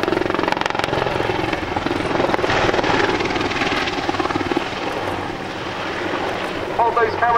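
An AAC Apache AH Mk.1 attack helicopter manoeuvring at an airshow, its loud continuous rotor and engine roar filling the whole stretch with steady intensity, while a commentator's voice speaks over it.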